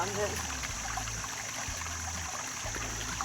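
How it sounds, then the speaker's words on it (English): Cold mountain spring water trickles along a creek outdoors, a soft, steady burble beneath faint background noise, with a person talking at times. "The only water left running in creeks this time of year is springs that come out of these mountains."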